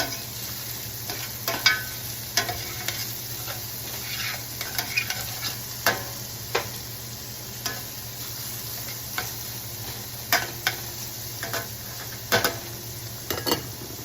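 Red bell pepper strips being stir-fried for chicken lo mein, a steady sizzle with repeated scraping clicks of the utensil against the pan, close and alone.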